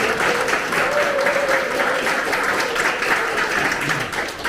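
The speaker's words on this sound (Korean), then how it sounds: "큰 박수 한번 주시기 바랍니다." A crowd applauds at an election campaign committee's closing ceremony in Incheon, a loud, dense, sustained round of clapping that carries on throughout with no break.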